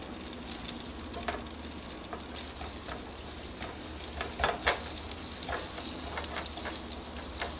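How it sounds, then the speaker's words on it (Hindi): Chopped garlic frying gently in a pan, a dense crackling sizzle with frequent small pops and stirring scrapes throughout, close and steady, no talking. "जो चॉप्ड एक गार्लिक है वो डालूँगी और इसको कोई ज़्यादा कलर नहीं देना, हल्का सा उसको पका के"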